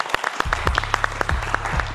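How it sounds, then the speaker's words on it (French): Enthusiastic audience applause, dense and sustained clapping from a crowd, loud and close with sharp individual claps standing out. "On va encore l'applaudir très fort, s'il vous plaît."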